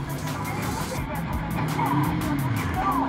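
An off-road vehicle slides sideways with tires skidding and engine roaring at a 2021 off-road trophy competition; the loud, continuous sound is close, with a voice talking over it.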